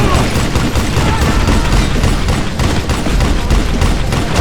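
Heavy, relentless gunfire from the western shooter Call of Juarez: Gunslinger fills the moment, loud and close in rapid overlapping shots, with a voice faintly mixed beneath the barrage.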